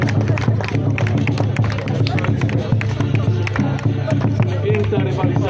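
Crowd applause at an outdoor running race in Bieniszew, greeting the 21 km runner who took second place, dense and steady clapping mixed with crowd noise and background music throughout.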